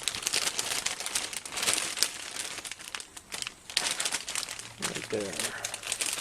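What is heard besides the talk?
plastic bag rustling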